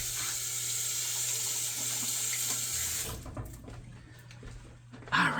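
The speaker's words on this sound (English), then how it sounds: "I'm going to rinse my hands." A kitchen tap runs for hand rinsing while slow-cooker brown sugar garlic chicken is prepared, a steady close splashing stream that stops about three seconds in, followed by quieter handling noises.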